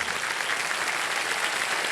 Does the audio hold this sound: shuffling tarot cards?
no